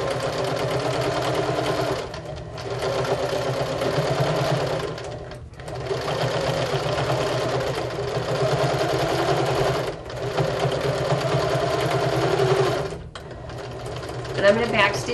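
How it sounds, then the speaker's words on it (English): A sewing machine runs in steady, continuous bursts while stitching across a fabric seam, with short pauses between runs, backstitching at the ends, and a voice talking over the motor hum. "I'm going to backstitch the end there, and then we're going to stitch across this seam."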